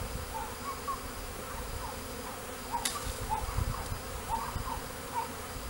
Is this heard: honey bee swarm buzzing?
yes